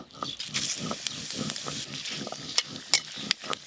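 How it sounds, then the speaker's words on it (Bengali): Dried chilli, bay leaf and five-spice seeds tempering in mustard oil for a papaya dish, with loud, busy crackling and popping in quick repeated bursts, close by, with no talk. "সর্ষের তেল, পেঁপে রান্নার জন্য ফোড়নে আমি শুকনো লঙ্কা, তেজপাতা আর 5 ফোড়ন দেব"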